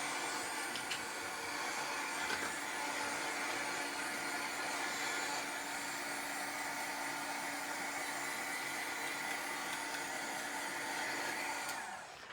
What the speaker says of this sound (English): I would just give it a shot with the heat gun.